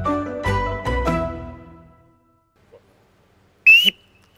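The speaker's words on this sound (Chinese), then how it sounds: "这是我们海军专用的 pipe， 也叫做口笛。" A navy boatswain's pipe, also called a bosun's call, sounds one short, shrill, wavering blast near the end after a brief voice at the start, loud and close.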